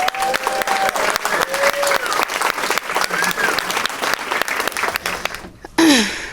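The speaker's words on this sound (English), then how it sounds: "can we just give a big round of applause to the Howard Zinn Planning Committee?" An event audience applauds a planning committee with dense, sustained clapping, a few voices calling out over it, before the applause cuts off near the end and a single voice starts to speak.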